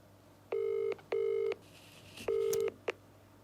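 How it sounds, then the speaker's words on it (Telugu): Telephone keypad tones as a call is dialed: three long, loud, steady beeps with short gaps, followed by a brief final blip, over faint background hiss. "సార్ కాల్ చేస్తున్నాను."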